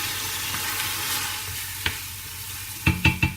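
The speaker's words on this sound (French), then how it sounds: "Ensuite, je mélange le tout." A spiced meat mixture with cinnamon, turmeric and ginger is stirred in a cooking pot, giving a low steady scraping sizzle and then a few sharper clinks of the spoon against the pot near the end.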